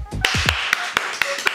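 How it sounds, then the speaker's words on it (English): Two kids at home clap their hands in crisp, evenly spaced single claps, about one every quarter second, with brief voices at the start. "both of you give yourself another clap"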